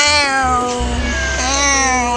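A stray cat in Qatar lets out a loud, close, drawn-out meow that wavers in pitch and holds for about two seconds, with nothing else heard.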